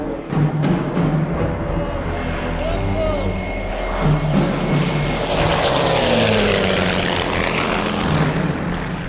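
A Messerschmitt propeller aircraft roars in low and passes overhead, its engine drone swelling loud then shifting pitch, with voices talking beneath at the start.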